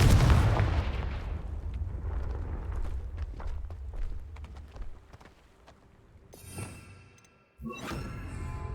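A Confringo fire spell from Hogwarts Legacy bursts with a loud, dense rumble and crackle that thins into scattered thuds and impacts, followed by a sharp second blast near the end.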